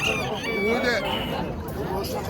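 Brief crowing from a rooster at a Namangan poultry market, heard through constant crowd noise and overlapping voices.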